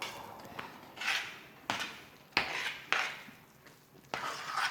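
Sweet potato cake batter is mixed in a bowl, with a utensil scraping and knocking against the sides in repeated strokes about every half second, close and clear with no talking.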